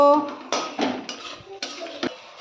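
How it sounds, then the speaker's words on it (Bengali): Spices being stirred with a metal spatula in a pan for a vegetarian shorshe potol dish, giving a few scraping clinks and knocks against the metal, close and brief. "এবার এগুলো সব ভালো করে একটু কষে নেব"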